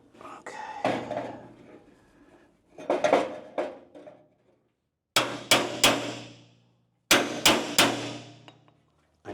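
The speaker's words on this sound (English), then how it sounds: "I know I'm not supposed to do that with a crowned hammer." A crowned hammer strikes a metal Camaro car fender, first in loose scattered blows, then in two tight clusters of sharp ringing hits, close and fairly loud.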